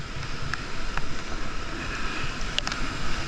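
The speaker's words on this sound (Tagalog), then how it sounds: "Sobrang laki ng mga alon" Large storm waves driven by Typhoon Ferdie break against a seawall in a dense, roaring wash of surf and wind, with a few sharp splashes cutting through.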